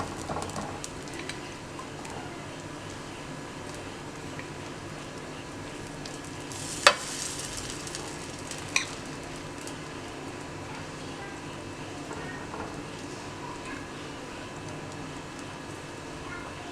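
An onion paratha fries on a hot griddle with a low, steady sizzle, and two sharp utensil clicks stand out partway through. The sound stays quiet and even, with no speech.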